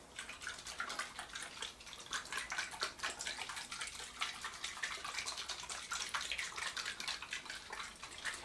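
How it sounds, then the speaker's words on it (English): A capped soil test vial holding water and garden soil, from a RapiTest soil kit, is shaken hard by hand, giving a steady, dense sloshing and rattling that runs without a break. No one speaks. "I'm going to cap this, and then we start shaking. Now we shake them for about a minute"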